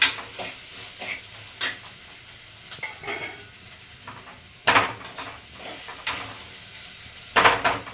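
Onions with rock salt cook in a clay pot under a soft continuous sizzle, stirred with a spoon that scrapes and knocks against the pot in scattered, close strokes.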